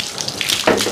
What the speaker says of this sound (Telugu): కొన్ని నీళ్ళు పెట్టు బ్రష్కి.